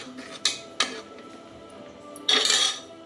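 A spoon scrapes and clanks against a metal pan while ingredients for ghee rice are stirred, with two sharp knocks early and then a longer rough scraping burst, close and alone without speech.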